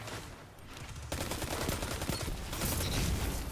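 Sustained automatic gunfire in a Destiny Iron Banner multiplayer match, dense rapid shots building to a loud continuous volley.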